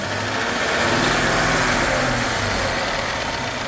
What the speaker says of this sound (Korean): 예, 이거 엔진 좋지 않습니다.